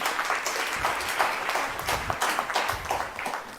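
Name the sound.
a few people clapping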